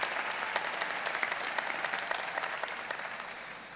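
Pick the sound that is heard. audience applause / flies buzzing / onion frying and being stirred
audience applause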